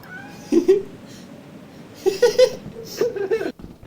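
A video game cat meows several times in short, whiny bursts, with quieter background noise between the calls.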